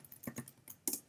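A few quiet keystrokes on a computer keyboard, several separate taps in a short irregular burst, close and faint with no talking.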